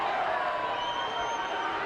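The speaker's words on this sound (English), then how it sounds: "the crowd has gone absolutely crazy here" Stadium crowd at an FFA Cup football match between Redlands United and Adelaide United roaring after a late goal into an empty net, a loud, dense, continuous wash of cheering voices.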